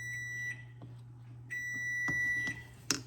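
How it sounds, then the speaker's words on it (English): A kitchen timer beeps while spiced applesauce is being made for canning, giving a few short, high, evenly pitched beeps over a low steady hum, with sharper clicks near the end. "Oh, there is the timer."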